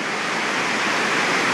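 Snake River rushing at Idaho Falls, Idaho, a loud continuous broadband wash of flowing water, steady and close, with no voices.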